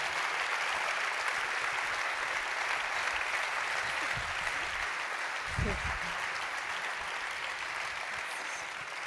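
An audience applauds to welcome Chloé onto the stage at a talk on fear and creativity, steady clapping filling the room for the whole stretch with a couple of low thumps midway.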